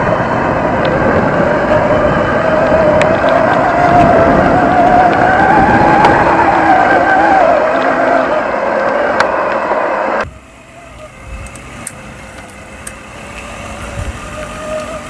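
A homemade e-bike driven by a cordless drill runs, with a steady, loud whirring motor and rolling drone for about ten seconds before it abruptly drops to a quiet idle with a few faint clicks.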